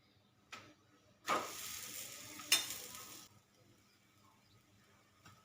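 Thepla flatbread roasting on a hot pan gives a soft sizzle with two louder bursts of frying hiss as each side is pressed down, then fades to a quiet crackle.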